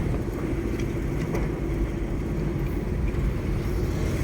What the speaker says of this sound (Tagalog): Ayan traffic sa kabilang side